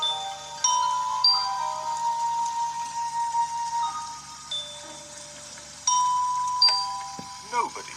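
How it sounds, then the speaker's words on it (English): A tune rung on palace door bells, clear chiming notes struck one after another in a slow melody with lingering decay, a second phrase starting partway through, with faint background sound beneath. "She needs to ring the melody on bells."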